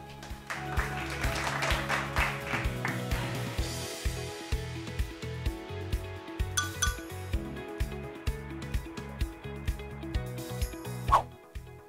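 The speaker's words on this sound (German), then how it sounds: "dann bitte ich doch nochmal um einen kräftigen Applaus für Dr. Ed und Frau Vogel." Applause breaks out for Dr. Ed and Frau Vogel at a Playmobil-themed Women's Day presentation, a steady stretch of clapping with occasional clinks, lasting the whole time at moderate loudness.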